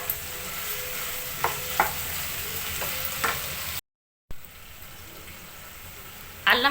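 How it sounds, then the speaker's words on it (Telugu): Ginger garlic paste frying on high flame in a pan: a steady close sizzle with a few sharp stirring clicks, cut by a brief silent gap, then a louder burst of crackling at the end. "హై ఫ్లేమ్లో నుంచి ఒక 30 సెకండ్స్ టు 1 మినిట్ ఫ్రై చేసుకుందాం."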